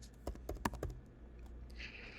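A name is typed on a computer keyboard: a quick burst of several close, crisp key clicks, then quiet with a faint electronic tone at the end.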